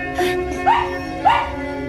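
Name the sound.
dog barking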